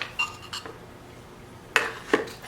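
A spoon clinks against a bowl as a heaping tablespoon of baking powder goes in with the dry ingredients, making a few short, bright metallic taps and scrapes separated by quiet gaps.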